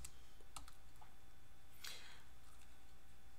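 A graphing calculator's buttons are pressed in a few quiet, separate clicks, close by against a faint steady hum, with no talking.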